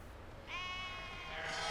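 A lone sheep bleats in one sustained, wavering call at close range, one of several pregnant ewes waiting to lamb on a farm at winter's end.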